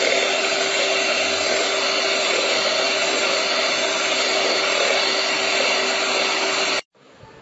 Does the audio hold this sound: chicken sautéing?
no